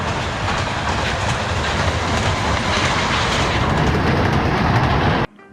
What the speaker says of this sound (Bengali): পিছনে দ্রুত গতিতে টয় ট্রেনটা আমাদের দিকে আসতেছে